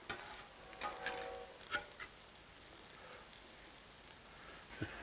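Omelette ingredients sizzle faintly on a Blackstone griddle while being stirred, with soft scraping strokes and a few brief clicks over a steady quiet fry.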